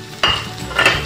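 Leeks dropped into hot olive oil in a pan, a close, bright sizzle that jumps up suddenly and keeps crackling, with a second surge of spitting as they are stirred.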